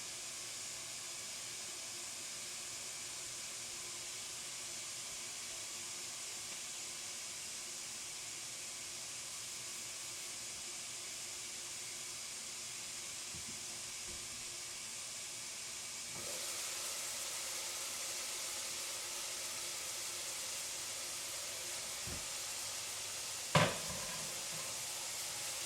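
Meat browns in a pan with a faint, steady sizzle and hiss that continues unchanged for the whole stretch, then a brief knock or clink near the end, with no talking.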